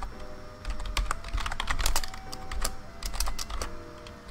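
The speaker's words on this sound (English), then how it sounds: "God, I can't type today." Quick, uneven clatter of keys on a computer keyboard, typed in short irregular bursts close to the microphone with a steady low hum underneath and no talking.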